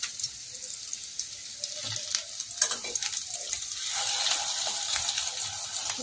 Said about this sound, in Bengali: আমি সাইডগুলোও ভাজবো, নাহলে কিন্তু কাঁচা কাঁচা লাগবে